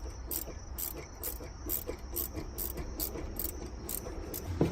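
Ratchet wrench clicking while tightening a rear gas shock absorber bolt on a Honda Civic, a steady series of sharp metallic clicks at an even rhythm, close and fairly loud with no talk.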